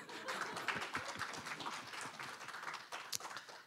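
A church congregation claps together at a training gathering, a quiet, dense patter of many hands heard from a distance, continuing for several seconds.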